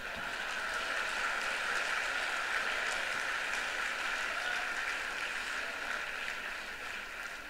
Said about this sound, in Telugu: ఇన్ని చప్పట్లు మోగాయంటే